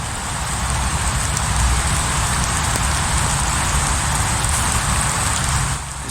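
Loud, dense rain falling outdoors during a stroll, a constant close hiss and patter that holds steady throughout with no voices.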